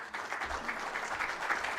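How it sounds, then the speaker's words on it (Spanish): Audience applause welcoming a speaker, Dr. Grey, at a BIM congress, a dense steady patter of clapping that runs for the whole stretch at moderate loudness, with no voices over it. "Lo recibimos con un fuerte aplauso"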